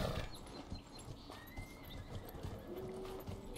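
Quiet hooves clip-clop in an uneven rhythm in the video game Dragon Age: Inquisition, with a horse whinnying faintly in the background.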